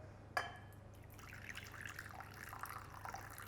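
Hot tap water for bread dough runs in a faint, steady trickle after a sharp knock, with light splashing and dribbling.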